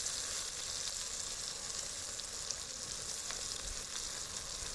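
Chicken 65 biryani masala sautéing with mint, coriander and curry leaves, giving an even, soft frying sizzle throughout with only a couple of faint stirring touches.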